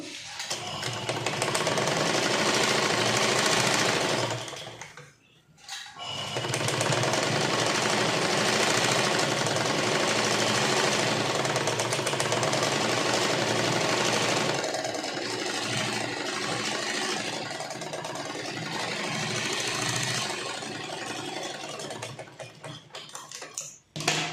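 A sewing machine stitches a puff sleeve in long, loud, continuous runs, with one brief stop around five seconds and a steady close whir throughout, and no talking.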